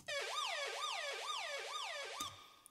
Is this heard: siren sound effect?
yes